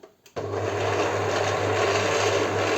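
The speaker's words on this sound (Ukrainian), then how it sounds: "І тепер ми його розмішуємо" Hot milk being stirred into a chocolate gingerbread mixture, a steady continuous whirring churn that starts abruptly after a brief quiet moment and holds at an even, loud level close by.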